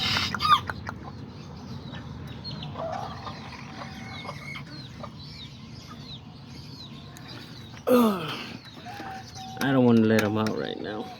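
Azteca and serama chickens cluck in a small backyard flock, with soft steady clucks throughout, a louder burst of squawking near the end, some mechanical rattling, and a person talking quietly.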